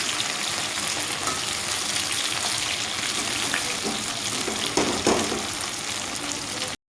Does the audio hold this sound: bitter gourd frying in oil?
yes